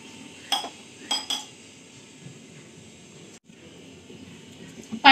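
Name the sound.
placing a lid on a pot of water on gas stove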